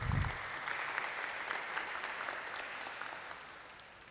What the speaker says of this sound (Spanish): Le vamos a dar un aplauso al psicólogo.